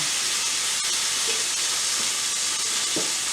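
Chicken pieces coated in olive oil laid skin side down on a Power XL smokeless electric grill, giving a loud, steady broadband sizzle and hiss that runs unbroken throughout, with a few faint clicks.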